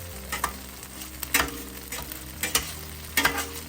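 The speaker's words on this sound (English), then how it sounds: "Just mix it, incorporating all the ingredients." Cheesy beef hoagie filling being stirred and mixed in a pan, a steady low sizzle under repeated scraping strokes of a utensil, with sharper clacks landing every second or so.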